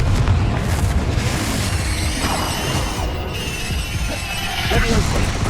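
Fiery Confringo spell blasts in the video game Hogwarts Legacy, loud booming explosions and crashing debris layered densely over continuous combat noise throughout.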